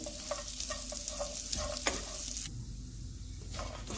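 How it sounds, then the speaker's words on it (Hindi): Dry fruits for sheer khurma roasting in a pan over a low flame, a soft steady sizzle with light stirring taps that drops away briefly toward the end. "अब इन ड्राई फ्रूट्स को मैं हल्की सी आंच पे 5 से 6 मिनट तक भूनती रहूँगी।"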